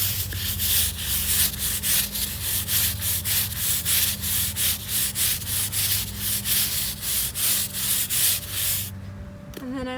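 A stiff brush scrubs a patio stone hard to remove mold and mildew, in steady rhythmic back-and-forth strokes, close and loud, stopping near the end.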